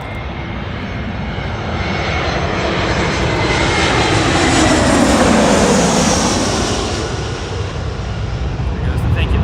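An Airbus A321 in a thank-you livery takes off at Los Angeles International Airport, its engines a loud broadband roar that swells to a peak near the middle and slowly eases, steady and close with no talk.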